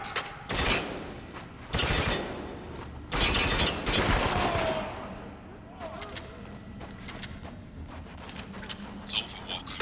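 Gunfire in the shooter video game Spec Ops: The Line, several loud broadband bursts of rapid shots in the first half, then lighter scattered cracks and clatter with a voice in the mix.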